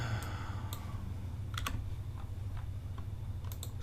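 Computer keyboard keys tapped for a Control A, V select-and-paste shortcut, a few sparse sharp clicks spread across a steady low hum, with no talking.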